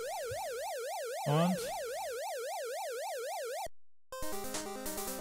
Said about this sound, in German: Kann man die Sirene aufdrehen?